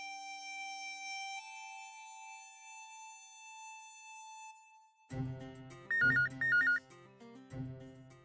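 Mobile phone ringtone of an incoming call, a bright electronic warbling melody repeated in short bursts, moderately loud and heard alone in a quiet room after a steady tonal hum.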